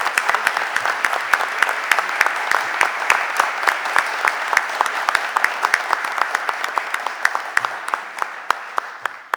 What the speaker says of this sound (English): Let's give the Tactical Squad a round of applause